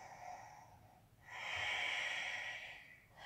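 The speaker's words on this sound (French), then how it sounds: "Avec la respiration Ujjayi, cherchez à aller plus loin à chaque respiration." Ujjayi yoga breathing, slow and close, with a soft constricted hiss on one breath, a pause, then a longer, louder ocean-like breath swelling and fading, with no talk.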